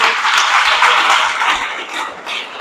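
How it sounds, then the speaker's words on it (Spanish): An audience at a church gathering bursts into dense, steady clapping for the fathers present, a short loud wash of applause with no voices over it. "Un aplauso para todos ellos."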